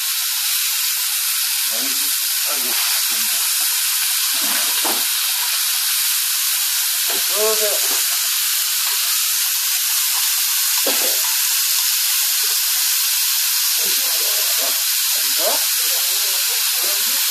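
Steady sizzling hiss of meat frying on a hot pan, with occasional bursts of popping and faint voices underneath.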